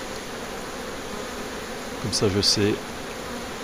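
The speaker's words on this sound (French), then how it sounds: "ça déborde d'abeilles" A steady, even hum of honeybees buzzing close by on a hive frame during queen rearing, with a voice briefly speaking over it.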